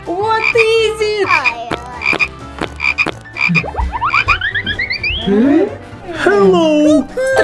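Croaking from frog-shaped shoes, a run of loud, close, bubbly croaks and chirpy warbles repeating in quick bursts, with a voice speaking among them.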